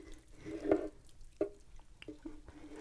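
Water poured onto a potted plant topped with moss gives a few soft, wet drips and splats, quiet and close, with short pauses between them.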